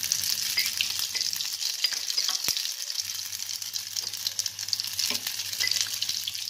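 Garlic and carom seeds fry in hot oil with a steady, bright crackling sizzle, close and continuous, with a few sharp pops and faint stirring scrapes.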